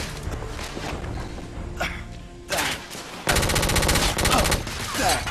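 Gunfire in The Order: 1886 at the United India Docks: loud, sustained bursts of automatic fire mixed with single shots, growing denser and heavier in the second half.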